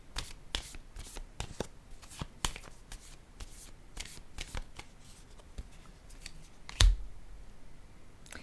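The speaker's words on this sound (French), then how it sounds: "je vais piger une autre carte ici" Tarot cards being shuffled and drawn, a steady run of crisp riffling flicks and soft slaps up close, with one sharper snap near the end and no talking.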